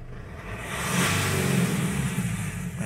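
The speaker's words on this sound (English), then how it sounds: "Rev it up, it is responding." Mitsubishi L200 pickup engine, with a boost sensor hose fault, revs up from idle, climbing to a sustained higher pitch before easing slightly; close and fairly loud, no talking.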